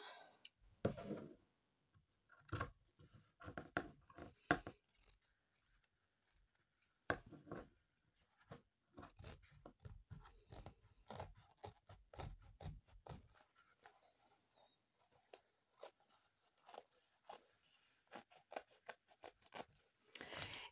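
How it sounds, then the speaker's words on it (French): Scissors snip through paper or fabric for an album craft project in quick, close clusters of crisp clicks, separated by short quiet gaps, fainter toward the end. "On prend les ciseaux."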